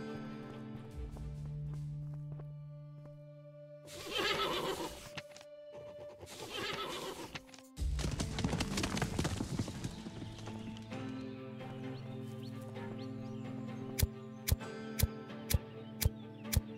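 Horse in the Western game Above Snakes: a whinny stands out early, followed by clopping hooves and a run of sharp, evenly spaced clicks near the end, over steady game ambience and music.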